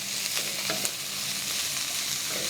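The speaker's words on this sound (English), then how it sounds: "You hear that sizzle?" Sauce sizzles steadily in a hot pan as soba noodles are stir fried, a close, even hiss with faint stirring scrapes and no voices.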